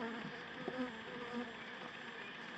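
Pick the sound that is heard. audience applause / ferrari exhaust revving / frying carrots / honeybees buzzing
honeybees buzzing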